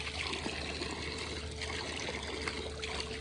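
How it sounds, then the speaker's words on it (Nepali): Water trickles steadily from a tree stump at a Mahadev worship spot, a close, continuous wet babble with no talking. "रुखबाट रुखको ठुटोबाट पानी आइरहेछ।"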